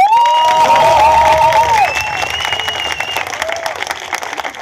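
An audience at a slam poetry showcase in Szeged applauds, loud clapping and crowd noise running throughout, with whistles and shouts riding on top and fading slightly toward the end.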